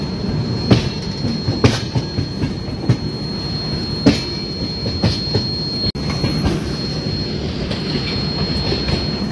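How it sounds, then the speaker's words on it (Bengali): The Sealdah–Ajmer superfast express (12987) rolling along the rails at night, loud and close, with rhythmic clickety-clack wheel beats, metallic squeals and a steady rumble throughout and no voices. "এদিকে বেরোচ্ছে শিয়ালদা আজমির এক্সপ্রেস"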